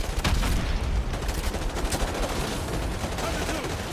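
Rapid bursts of gunfire from Call of Duty Modern Warfare Remastered rattle continuously and loudly, with dense overlapping shots and booms filling the whole stretch.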